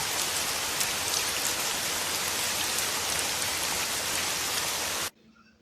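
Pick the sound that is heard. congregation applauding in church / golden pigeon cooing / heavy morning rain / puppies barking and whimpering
heavy morning rain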